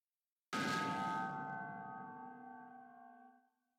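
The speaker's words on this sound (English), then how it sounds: "First, we have the bell impact." A single bright bell strike from a bass music production rings out clearly, its metallic tone sustaining and slowly fading over about three seconds.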